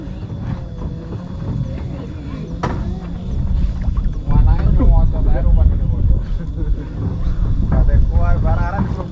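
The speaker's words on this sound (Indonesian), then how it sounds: "Angin gede-gede." Strong wind buffets the microphone at a fishing spot, a steady rumbling roar that grows louder halfway through, while people talk over it.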